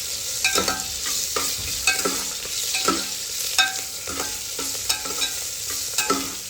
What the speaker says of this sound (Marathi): त्याच्यामध्ये 1 टेबलस्पून मी मीठ टाकते आहे. आणि परत आपल्याला हे व्यवस्थित हलवून घ्यायचं आहे.